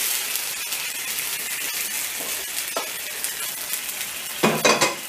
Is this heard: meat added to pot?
yes